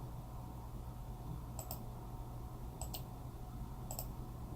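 Three faint, evenly spaced clicks of a computer mouse, each a quick double tick over a quiet hum.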